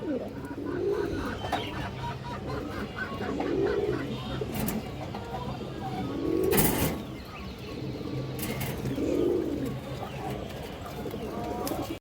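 Pigeons, including a boot-beaked female, coo in repeated soft throaty phrases about every three seconds in a market setting, with background noise and a few sharp clatters.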